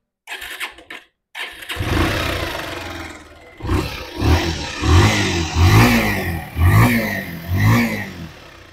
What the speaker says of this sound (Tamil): இந்த பைக்கை நான் ஒரு வாட்டி ஸ்டார்ட் பண்ணி காட்டுறேன்